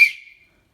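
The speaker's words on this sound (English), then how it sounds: "signal whistle." A small signal whistle from a pocket survival kit gives one short, sharp, shrill blast that fades out within half a second.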